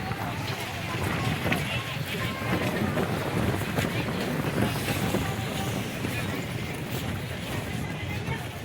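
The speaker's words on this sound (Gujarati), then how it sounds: "બપોર છે ને તો એકદમ ઠંડો ઠંડો પવન છે" Cool afternoon wind blows at the Sunday Chowpatty market on the Porbandar seashore, a constant, loud, rumbling gust against the microphone with no pause.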